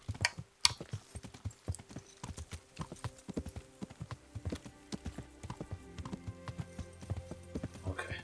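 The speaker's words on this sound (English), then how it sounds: "the Foley artists recorded a cow walking through a wet field and played that" Foley for Kingdom Come: Deliverance made from a cow walking through a wet field, heard as a steady string of close, soft hoof thuds in an even walking rhythm, with a voice talking at times.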